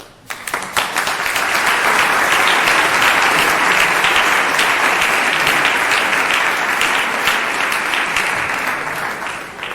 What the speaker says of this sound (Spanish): Este aplauso para la gente del grupo más conocido